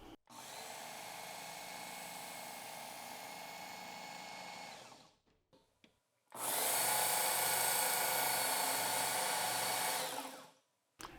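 A Ken Onion Work Sharp KTS Mk.2 belt sharpener runs on a knife edge at a low speed setting, making two loud, steady whirring passes of about five seconds each, separated by a short pause with small clicks.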